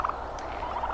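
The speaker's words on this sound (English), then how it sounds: "There's the turkeys. We have 3 left." Three juvenile turkeys gobbling in a garden, short warbling calls in quick bursts at the start and again near the end, close and moderately loud over a steady outdoor background.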